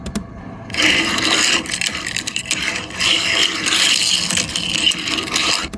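A small toy vehicle is rolled across a hard surface close by, its wheels giving a steady ratcheting, gear-like whir that rises and falls.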